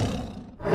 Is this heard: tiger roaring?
yes